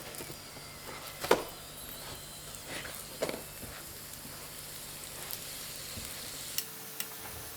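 A chive-filled pancake fries in a pan, giving a faint, steady sizzle with a few soft clicks and taps of handling, close and quiet with no talk.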